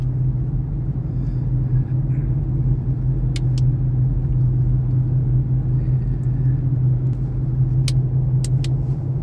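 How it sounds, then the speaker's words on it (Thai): Car cruising slowly at about 50 km/h on the road to Phra That Muen Hin, a steady low rumble of engine and tyres heard from inside the cabin with a few faint clicks. "เราขับช้าๆเราขับประมาณ50กิโลเมตรต่อชั่วโมงนะครับ"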